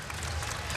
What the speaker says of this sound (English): This crowd is loving it here in Pullman.